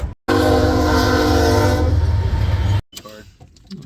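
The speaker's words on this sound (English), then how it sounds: "we'll come back when the train's gone" A loud train roars close by with a blaring horn and rumbling cars, then cuts off abruptly, leaving faint background noise.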